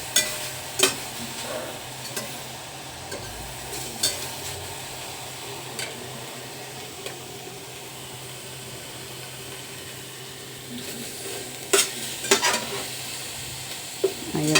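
Onion sautés with meat in a pan, giving a steady soft sizzle punctuated by sharp spatula clacks and stirring scrapes that come in bursts, close by.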